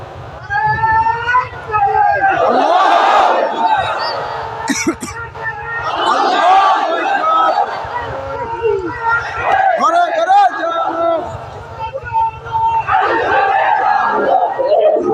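A large crowd at a Muslim religious gathering in Bangladesh shouts the slogan Lillahi Takbir. Loud, massed voices rise in repeated bursts every couple of seconds, alternating with a leader's lone call and a low rumble underneath.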